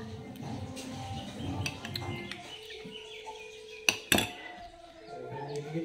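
Spoon and plate clinks while two people eat ghugni with onion and tamarind at a family home, with a couple of sharp metallic clatters near the end over a background of low household chatter and faint bird chirps.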